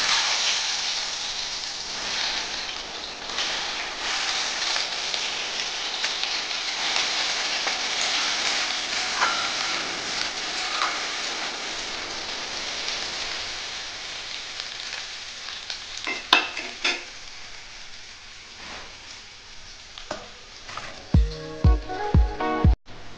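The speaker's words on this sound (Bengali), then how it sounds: "আমি এখন এই আলুগুলো এর মধ্যে দিয়ে ভেজে নেব" Potatoes frying in hot oil in a wok give a steady, dense sizzle for about twenty seconds, followed by a few sharp clinks and clatters of utensils near the end.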